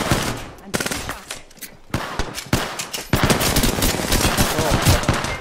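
Dense machine gun fire in the Apex Legends video game, loud close automatic bursts overlapping with other shots and impacts, nearly continuous across the stretch.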